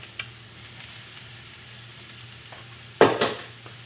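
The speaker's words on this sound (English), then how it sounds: "You can hear it sizzling." Cauliflower grains hit a hot skillet and sizzle, a quiet steady frying hiss with a sharp burst of crackling partway through, no talk.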